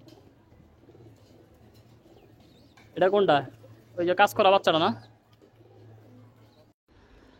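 Pigeons coo softly and continuously in a rooftop loft, a low murmur running beneath a man's short spoken questions.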